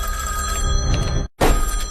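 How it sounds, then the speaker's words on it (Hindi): A telephone rings in a tense police-station drama, a steady electronic ringing that fills the clip, cuts out briefly near the end, then resumes at the same level with no one speaking. "फोन। उठाओ राठौर, फोन उठाओ।"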